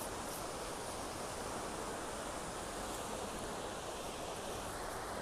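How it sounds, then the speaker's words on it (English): A river flowing at a botanical garden in New York, heard as a steady, even rush of water that fills the whole stretch without a break or any talk. "Here's the river!"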